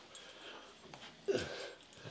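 A large puppy moves about an indoor room, giving a few faint, brief whimpers and sniffs against a quiet background, with the clearest burst near the end.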